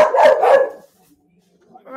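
Several household dogs bark in a quick close burst at the start, then fall quiet, with a faint yip or whimper trailing in near the end.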